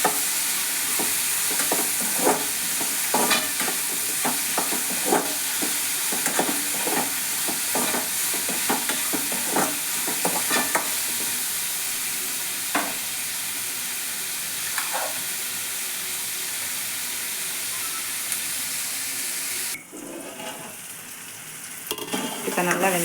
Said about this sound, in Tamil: இப்போ நம்ம தக்காளி போட போகிறோம். தக்காளி நல்லா வதங்கட்டும்.